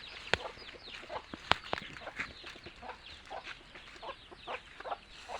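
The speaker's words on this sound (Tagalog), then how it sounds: "Tanawa ang mga manok." Chickens on a rural hillside farm cluck steadily in overlapping, close-range calls, with a few sharper squawks rising above the continuous flock chatter and no talking.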